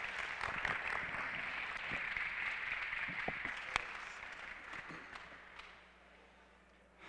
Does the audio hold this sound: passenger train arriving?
no